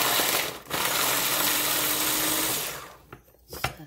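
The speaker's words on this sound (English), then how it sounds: "I'm just going to throw a handful of carrots in there and let them chop up." An electric kitchen chopper whirs loudly as it chops a handful of hard carrots on their own, a steady motor drone lasting a few seconds with a brief stop, then cutting out into quiet clatters and taps.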